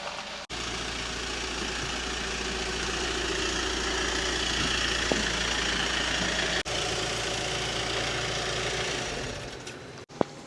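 A Dethleffs Globebus Performance 4x4 motorhome engine idles with a steady low hum while the vehicle reverses, close and continuous, with a couple of brief clunks.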